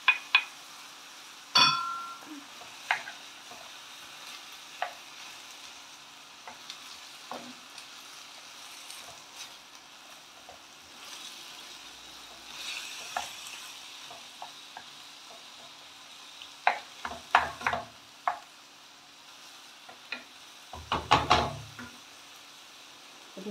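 Sliced mushrooms sizzle softly in oil in a pan for a vegetable gratin, with quiet frying hiss and intermittent stirring scrapes and clatters of a utensil against the pan.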